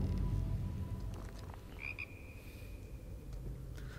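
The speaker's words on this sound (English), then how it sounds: "Oh, hey, the frog." A frog in Uncharted 4 gives a single clear, piping croak near the middle, set against a low rumbling background of water and ambience with no talking.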